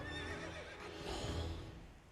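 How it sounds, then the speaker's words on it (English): A horse neighs in the fantasy video game Tiny Tina's Wonderlands, a loud, close whinny that rises and falls over about two seconds, heard alone. "A neigh?"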